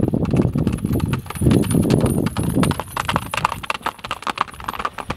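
A highlander's horse is ridden on a Dagestan field, its hooves clip-clopping in a steady, close rhythm. The hoofbeats sound loud and clear, turning sharper and more clattering toward the end.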